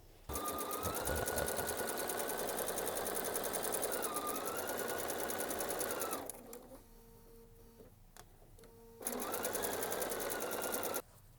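A sewing machine stitches a patchwork quilt block in steady close bursts of rapid, even whirring, with a brief pause and a few soft clicks before the run picks up again.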